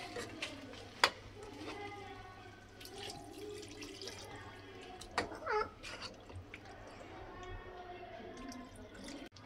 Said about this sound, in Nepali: यता पानी हाल्दैछु